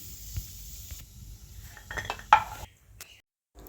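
Ghee-fried almonds and cashews are scooped from a pan into a bowl while making semiya kesari: faint scraping and stirring, a few light metallic clinks of spoon against cookware, then quiet.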